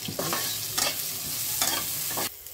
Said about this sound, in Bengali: ঘিয়ের মধ্যে আমি এই যে কেটে রাখা গাজরগুলো ফ্রাই করে নেব